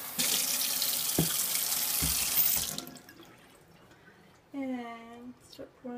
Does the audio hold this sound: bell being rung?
no